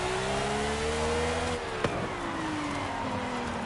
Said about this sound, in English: That's legitimately the engine sound of a V12.